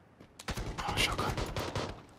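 Shotgun fire in PUBG: a quick cluster of loud, close blasts runs together into a dense burst lasting under two seconds.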